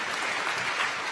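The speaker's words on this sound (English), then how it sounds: "So a round of applause for Edgar." Audience at a UN youth climate summit applauding a speaker, a dense, even wash of clapping heard briefly at moderate level with no voices over it.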